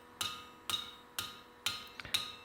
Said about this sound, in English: go over to your anvil and smack it some